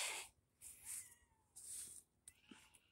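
A cat sitting on a fence meows several times in short, high-pitched calls with brief pauses between, fairly close and a little faint.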